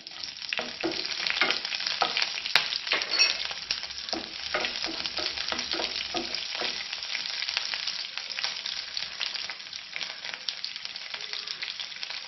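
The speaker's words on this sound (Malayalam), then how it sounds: "പാവയ്ക്കയിട്ട് നന്നായിട്ട് വഴറ്റുക" Bitter gourd sautéing with chillies in a hot pan gives a steady, close sizzle with frequent scraping stirs, continuous and fairly loud throughout with no voices.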